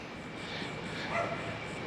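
A dog gives a short, faint yip or bark in the distance over steady background hiss, with no voices.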